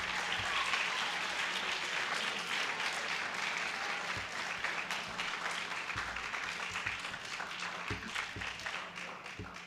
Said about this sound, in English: Can I get another round of applause for our musicians?